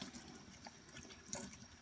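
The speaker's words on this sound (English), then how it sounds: "letting the water run through it until all that comes off" Tap water running quietly over makeup brushes being rinsed in a sink, a faint steady trickle with small splashes and no voices.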